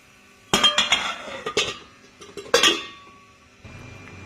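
A cooking pot being covered with its lid while making mixed fruit chutney, heard as a quick run of close metallic clanks and clinks followed by a lingering ring, then quiet.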